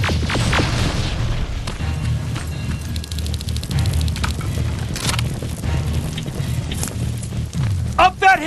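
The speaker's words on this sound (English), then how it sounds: "More incoming! Suppressing fire!" Heavy combat in the video game Terminator Resistance: booming explosions and bursts of gunfire crash loudly and continuously over a low rumbling score, with shouted voices cutting in.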